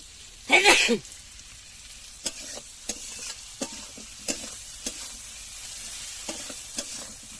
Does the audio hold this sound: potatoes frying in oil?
yes